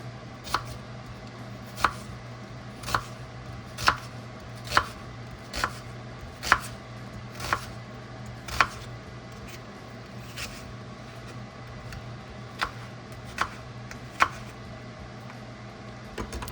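A knife chops ingredients for Persian khoresh-e beh, a beef and quince stew, on a cutting board. The sharp chops come in irregular bursts of single strikes, close and crisp over a quiet background hum.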